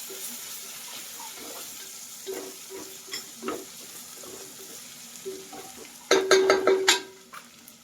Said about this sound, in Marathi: छान असं परतून घ्यायचं हे सगळं